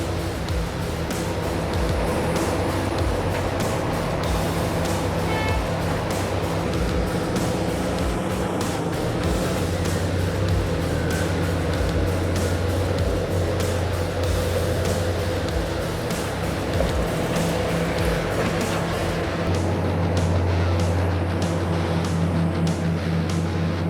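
German-built mining excavator loading 100-ton haul trucks with overburden at a phosphate mine, a loud continuous mechanical roar with deep engine rumble and scattered clanks and knocks, steady throughout with no voices.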